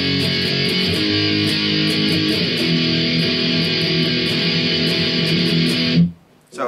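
Distorted electric guitar plays the chorus of a song, a dense, steady strummed wall of sound running loud and unbroken for about six seconds before cutting off abruptly.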